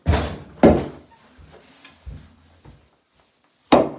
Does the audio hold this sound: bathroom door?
yes